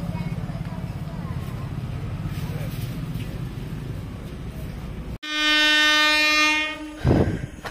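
A train rumbles steadily past at Bahanaga Station, then a loud, sustained multi-tone train horn blasts for about two seconds, cutting over the passing noise before easing off into clattering rail sounds.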